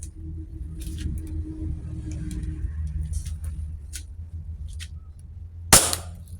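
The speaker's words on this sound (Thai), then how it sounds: "ต่อไปจะเป็นการทดสอบยิงพร้อมวัดความแรง" A Sig Sauer P320 M18 airsoft pistol fires one sharp, loud shot near the end, after a stretch of quiet background hum and faint clicks.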